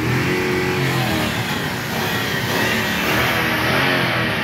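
A V8 car engine revving hard and continuously, a loud, dense roar filling the whole stretch with no pause and no voices.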